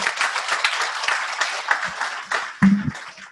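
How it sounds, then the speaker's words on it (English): An audience applauds at a tech talk, a lively burst of clapping with uneven swells and a few louder individual claps, a brief low thump near the end, otherwise no talking. "Let's give him a second round of applause"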